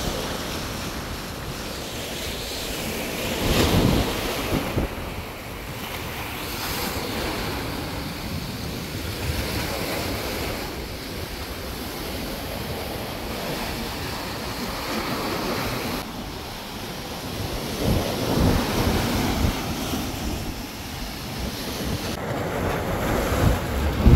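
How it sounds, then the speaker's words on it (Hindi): Strong wind-driven sea waves breaking along the Jeddah corniche in Saudi Arabia, a continuous roar of surf with louder crashes every few seconds, heavy wind buffeting the microphone. "हवा की वजह से काफ़ी तेज़ लहरें हैं।"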